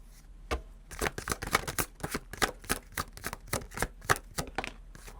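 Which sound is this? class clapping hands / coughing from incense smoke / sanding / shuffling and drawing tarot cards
shuffling and drawing tarot cards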